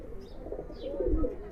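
Giribaz pigeons coo steadily in a low, throaty murmur, several birds close by with a faint background hum and no talk.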